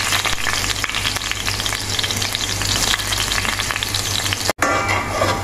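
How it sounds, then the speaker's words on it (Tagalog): Ginger, garlic and onion sizzle and crackle steadily in hot cooking oil in a pan, a loud, close, continuous frying hiss with a brief break near the end and no talking. "Nagpainit na rin ako ng mantika guys at ilalagay na natin yung ricado natin."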